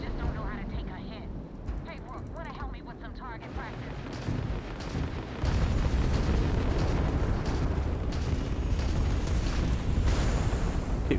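Gunfire in the space game Starfield, dense rapid shots and booming impacts blending into continuous loud combat noise, with a voice talking over it.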